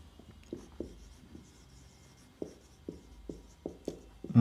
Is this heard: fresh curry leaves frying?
no